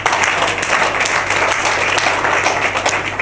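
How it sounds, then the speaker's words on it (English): A church congregation claps loudly and continuously during a sermon, a thick, steady roar of hand clapping that fills the room throughout. "You may clap for Jesus there."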